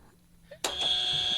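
A game show buzzer sounds during a two-part trivia question round, a loud sustained electronic tone that starts abruptly partway through and holds steady to the end, with faint voices before it.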